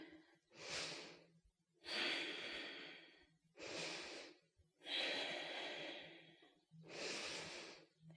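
Steady breathing held during a yoga pose, five slow, even breath cycles, each a soft airy rush separated by brief quiet gaps, faint and close.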